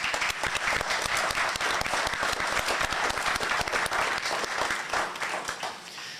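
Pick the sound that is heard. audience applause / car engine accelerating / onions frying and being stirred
audience applause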